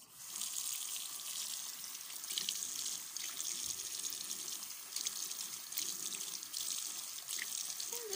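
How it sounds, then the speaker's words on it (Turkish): Cold tap water runs steadily onto a Monster High doll's sticky hair as it is wetted for washing, a continuous close splashing hiss that holds for the full stretch with no talk. "Güzelce soğuk suyla ıslatıyorum."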